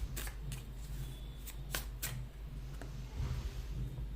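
Tarot cards are shuffled by hand in quick, soft riffling bursts separated by short pauses, close and quiet with no voices.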